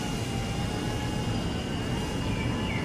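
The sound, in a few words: DJI O4 Lite microdrone flying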